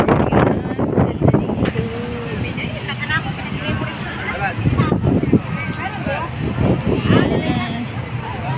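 Gusty wind buffets the microphone with low rumbling bursts at Sky Garden, SM Mall of Asia, while a person talks over it.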